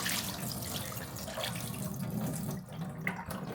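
Water pours steadily out of a clothes dryer's water tank, a close, continuous splashing trickle that fades briefly near the end, then resumes.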